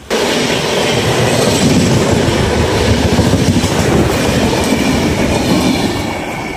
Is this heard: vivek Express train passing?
yes